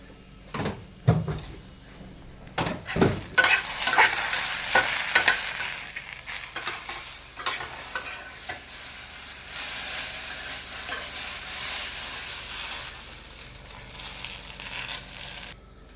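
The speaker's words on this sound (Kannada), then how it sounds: "ಇಲ್ಲಿ ಹುರಿತಾ ಇದ್ದಾಳೆ ಬೆಂಡೆಕಾಯಿ ಸ್ವಲ್ಪ ಕಪ್ಪಾಗಲಿ" Okra stir-fried in a pan for a tamarind gojju chutney, a steady sizzle with scraping and clattering stir strokes that are busiest early on, then settle into an even frying hiss.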